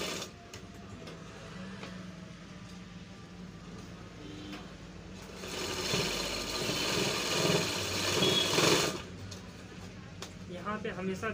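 A sewing machine runs a steady stitching burst along a pant seam for a few seconds, a fast whirring buzz rising loud after a quieter stretch, with someone talking before and after.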